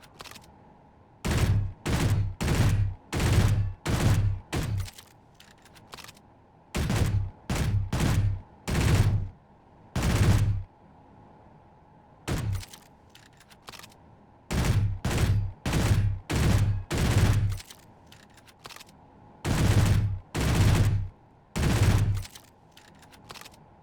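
Bursts of automatic gunfire in the space game Space Engineers, loud and close, fired in rapid strings of four to six shots with short pauses between volleys and no talk.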